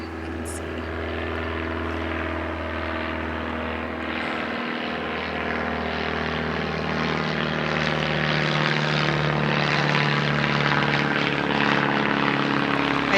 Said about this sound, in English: Here's a plane.